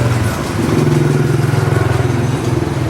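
A motorbike engine putters loudly and steadily while passing close through a narrow alley in Saigon, Vietnam. Its throbbing, idling-pace rhythm fills the whole stretch, with no one talking over it.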